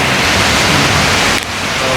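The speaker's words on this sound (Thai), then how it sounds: "ลงฝนตกแล้ว" Steady rain falls as a loud, continuous hiss filling the whole stretch, with a brief dip in intensity near the end, and no voices heard over it.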